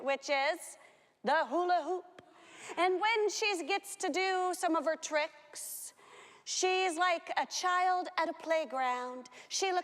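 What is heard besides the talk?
No everyday noise stands out behind the speech.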